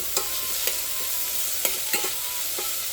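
Onions sauté in a pan toward golden brown, a continuous close sizzle broken by several sharp scraping stirs at irregular intervals.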